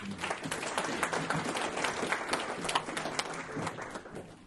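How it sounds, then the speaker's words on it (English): Audience applause for a presenter at a market talk, dense clapping sustained for several seconds and easing off at the end, with faint voices mixed in. "Round of applause for Kevin."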